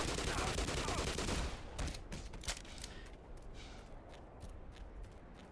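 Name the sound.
Tau cannon weapon firing in video game Black Mesa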